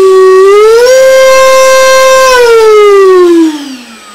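Small motor on a self-built paraglider spins up as the throttle opens, a loud whining tone rising in pitch, holding steady, then winding down as it falls away, close and alone.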